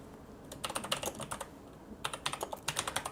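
Fingers type on a computer keyboard in two quick runs of light, close clicks, with a brief pause between them and no voices.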